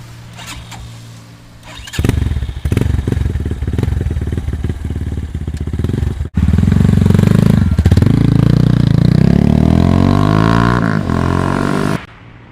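A Kawasaki Ninja ZX-10R sport motorcycle fires up, then accelerates hard on a road test ride, its loud engine climbing through rising revs and gear changes before cutting off abruptly.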